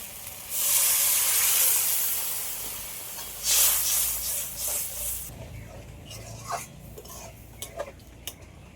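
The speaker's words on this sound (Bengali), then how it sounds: "মশলাগুলো সব একসাথে ভালো করে একটু কষিয়ে নিয়েছি এবার এর মধ্যে জল দিয়ে দেবো" Water poured onto fried spices in a pan for Bengali rui fish kalia bursts into a loud hissing sizzle that fades, returns briefly, then settles into quieter bubbling with light clinks of a utensil, close up and without talk.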